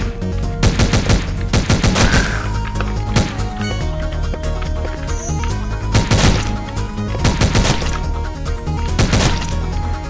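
Gunfire in the video game Omega Strike, heard as repeated bursts of sharp shots in irregular clusters over a continuous game soundtrack, loud and close, with no talk.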